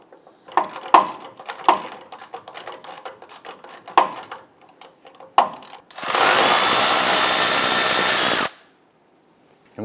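A power tool, likely an impact driver or drill, runs in one loud continuous burst lasting a couple of seconds while removing a 12mm clamp bolt from the inside of a frame rail on a 2000-2006 Toyota Tundra. Scattered clanks and handling noises come before it.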